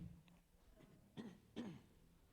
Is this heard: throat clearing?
yes